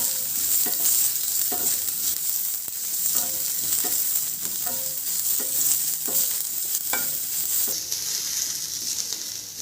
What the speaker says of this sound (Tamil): எல்லாம் முருகலாக வந்த உடனே இஞ்சி பூண்டு விழுது கொஞ்சம் போட்டு கலக்கி விட்டுட்டு